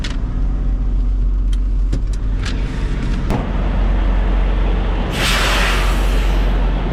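A Peterbilt truck engine idles with a steady low rumble on an icy road, broken by several sharp clicks and a loud hissing burst of air near the end.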